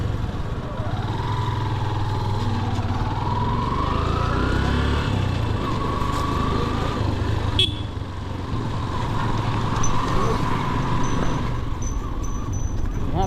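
A motorcycle engine drones steadily and close on the road to Maulakalika, a continuous low rumble with faint traffic sounds and no break in the riding noise.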